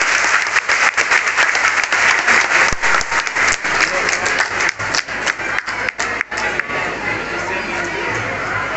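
A crowd at a school event breaks into loud, vigorous applause, a dense roar of many hands with sharp individual claps standing out, easing slightly toward the end, with faint voices mixed in.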